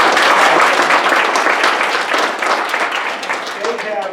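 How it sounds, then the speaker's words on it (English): Applause from a panel discussion audience in an event space hosted by a credit union, a broad steady wash of many hands clapping that starts full and slowly tapers over a few seconds. "if we can give them a round of applause"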